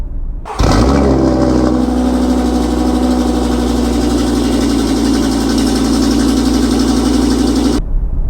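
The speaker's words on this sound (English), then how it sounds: "the wastegate rattle from that exhaust" An Audi RS3 engine starts abruptly and idles loudly with a metallic exhaust wastegate rattle riding over the steady low rumble, then cuts off.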